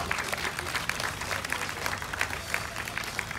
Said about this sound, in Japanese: 改めてお二人、大きな拍手をお願いします。